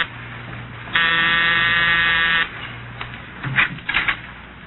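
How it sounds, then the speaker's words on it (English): An apartment door buzzer sounds a steady electric buzz for about a second and a half, then stops, followed by a few faint clicks and rustles. "I was punching the buzzer to Saxon's apartment"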